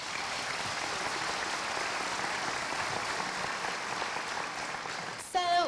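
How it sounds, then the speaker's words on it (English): Steady audience applause at a new student convocation, a sustained wash of clapping heard from a distance that fades slightly before a voice cuts in at the very end. "I want you to give yourselves a round of applause"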